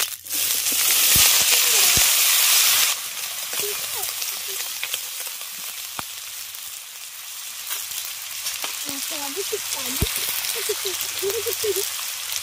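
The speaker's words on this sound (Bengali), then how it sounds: "তেল গরম হয়ে গেছে, এবার তেলের মধ্যে আলুটা দিয়ে দিচ্ছি।" Diced potatoes tipped into hot oil, first a loud rushing sizzle, then a calmer crackle with scattered pops and spatters as frying continues.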